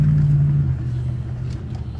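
A GMC Denali's 6.2-liter V8 idles with a low, steady rumble, close and fairly loud, holding a deep drone for two seconds with no talking.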